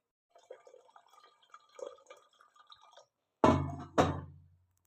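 Water is poured into a cooking pot holding potatoes, first as faint scattered trickles and clinks, then two short, loud splashing pours close by.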